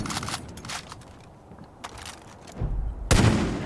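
Sniper gunfire in the video game Far Cry 5: a few sharp shots spaced apart, one loud crack near the end followed by a booming rumble, over faint background game noise.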